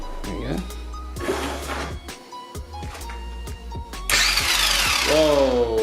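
The electric motor of a 1:10 scale RC drift car whirs in short bursts with pauses between them, then revs into a loud, rising whine at the end.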